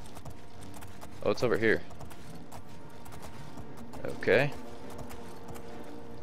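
Rhythmic hoof clip-clops of a galloping horse in the video game Oblivion patter steadily under the scene while a person speaks in two short bursts.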